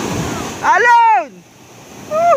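Waves wash against the Bucana shoreline in a steady rushing hiss, mostly overlaid by a man's loud rising-and-falling shouts near the start and end.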